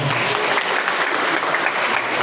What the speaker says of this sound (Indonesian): Beri tepuk tangan kita semua.